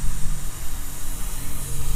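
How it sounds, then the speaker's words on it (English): Carburetor cleaner sprayed from an aerosol can into an engine cylinder of a BMW E36 318i M44 with the head installed, a close, continuous hiss lasting the whole two seconds. "We take a little bit of carburetor cleaner and we're going to go ahead and spray it in there gently"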